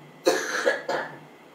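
An audience member at a mosque gathering coughs twice in quick succession, close and fairly loud against a quiet hall.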